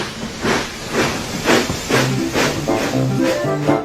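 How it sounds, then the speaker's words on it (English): Steam locomotive chuffing along, a regular series of loud hissing puffs roughly twice a second over a low rumble of wheels and machinery, close and without voices. "And he chuffed quickly away."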